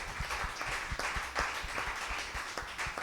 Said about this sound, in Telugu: ఉత్సాహంగా ఉన్నవారు గట్టిగా దేవుని చప్పట్లు కొడదామా?